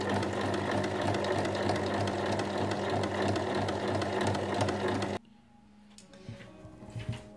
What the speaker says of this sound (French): on vient épingler et piquer à 1 cm tout le long